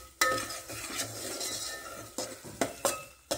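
Pav bhaji vegetable mash with ghee stirred in a pan over a low flame: a spoon scrapes and clinks against the metal in several sharp taps, close up, over a faint sizzle.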